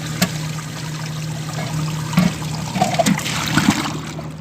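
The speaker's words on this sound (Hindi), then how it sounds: "ابھی جو ہے ایئر جانا بند ہو گئی ہے، ابھی صرف پانی جا رہا ہے۔" A pool pump and filter system carries only water once the trapped air clears, giving a steady low hum with a continuous rushing trickle and a few soft gurgles and splashes.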